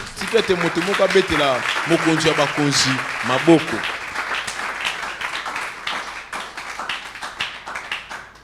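A church seminar audience applauds and cheers in acclaim of the Lord, dense clapping rising under a speaker's voice and then continuing as a steady patter after the talk stops.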